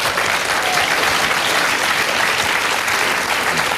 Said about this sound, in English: the round of applause started slow, and as more people got it, built up.